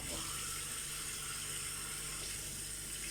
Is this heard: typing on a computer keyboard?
no